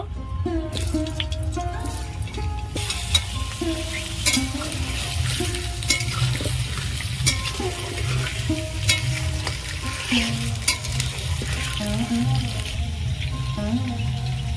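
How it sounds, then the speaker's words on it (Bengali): Potatoes fry in hot oil in a heated kadai while jackfruit and prawns are prepared: a steady, dense sizzle runs throughout, with scattered clinks and scrapes of stirring on top and a low hum beneath. "তেল গরম হয়ে গেছে আলুগুলো ভেজে নেব"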